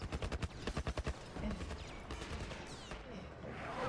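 Rapid bursts of gunfire in The Last of Us, a quick string of sharp, loud shots at the start, then dying away into rumbling noise and scattered softer sounds.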